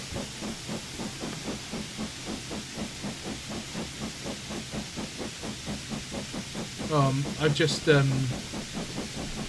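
An LMS 8F steam locomotive in a train simulator chuffs in a steady rapid rhythm with constant hiss, joined near the end by a louder burst of whistle-like tones over the beat.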